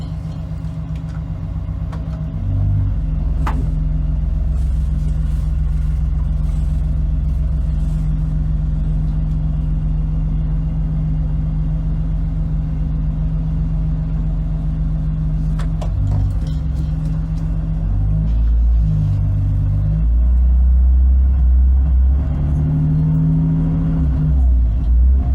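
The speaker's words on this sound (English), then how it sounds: "let's take the car for a drive." A BMW E46 with ratty headers and leaky injectors on a test drive: a steady, loud low engine rumble from inside the car, with brief swells as the throttle changes and no talk.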